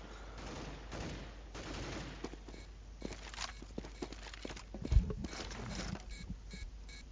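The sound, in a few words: gunfire in the video game CS:GO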